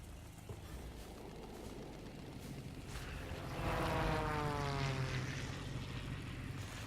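In the World of Warplanes game, the propeller engine of a Caudron-Renault C.714 fighter drones steadily, swelling louder and shifting pitch halfway through as the plane maneuvers, a continuous close hum with no voices.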